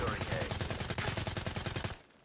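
Rapid repeated shotgun blasts from a 12-gauge in Call of Duty Black Ops 3 fire in a fast, evenly spaced volley, loud and close, stopping abruptly near the end.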